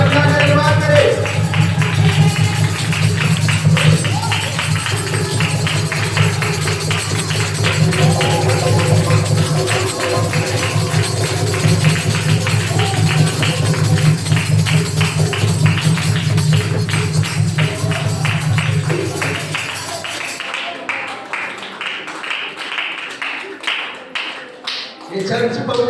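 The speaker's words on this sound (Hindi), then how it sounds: "सब लोग ताली बजा के धन्यवाद करें।" A church congregation claps together in thanks, a long run of steady rhythmic hand claps that fills the room loudly over music and voices before thinning out near the end.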